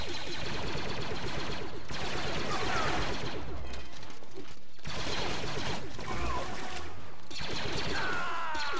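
Rapid blaster fire in Star Wars Battlefront 2 pours steadily at a frigate's shield, a dense mechanical rattle of shots running for several seconds with brief gaps.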